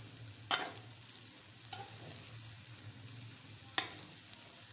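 Onions and green chillies frying with okra in a home kitchen pan give a soft, steady sizzle, with a few sharp stirring clicks against the pan; the sound is faint and there is no talk.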